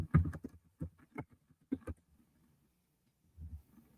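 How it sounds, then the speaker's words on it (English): Computer keyboard typing, a quick run of soft, uneven key clicks up close that stops, followed by a pause and a few more taps, quiet and with no talking. "I'll type this in here."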